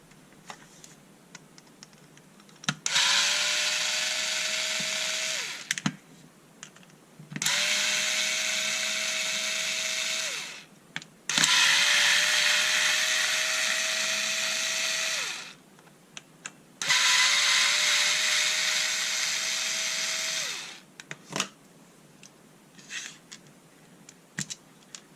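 A Bosch Ixo cordless screwdriver whirs in four long bursts of several seconds each while backing out screws, with a steady motor pitch and short quiet pauses and small clicks between runs.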